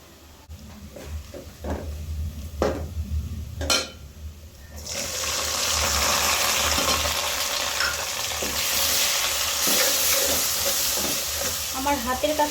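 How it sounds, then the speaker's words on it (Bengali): Onions fry with a bay leaf in a pan, starting with a few stirring scrapes and clinks and then settling into a loud, steady sizzle with occasional stirring under it, with no talking. "তখন আমি বেশিরভাগ টাইম তেজপাতাটা পেঁয়াজের সঙ্গেই ভেজে নিই"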